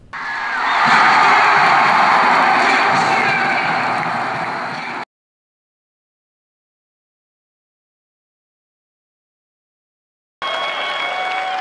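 Cheering and applause from a crowd inside a county convention center swell and fade over several seconds, then cut to silence before a brief burst of noisy crowd sound returns.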